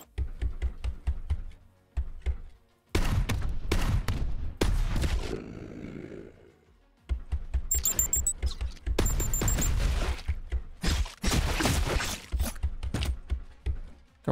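A grenade launcher and other weapons fire in the Diablo + DOOM action game, with dense rapid bursts of loud, punchy shots and blasts. Brief gaps separate the barrages, and a rumbling lull falls in the middle.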